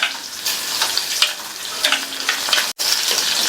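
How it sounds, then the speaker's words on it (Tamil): Green chilies sauté in hot oil for a tomato pachadi, giving a steady broadband sizzle and crackle with a few spatters and stirring scrapes, close and continuous, interrupted by one brief dropout. "இந்த பச்சை மிளகாலாம் நல்லா எண்ணெயிலேயே வதங்கணும்."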